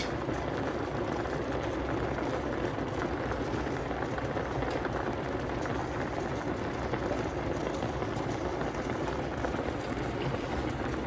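Taro leaves with salt and green chilies simmer in a covered pot, giving a steady, soft bubbling hiss that stays even throughout, with no voices.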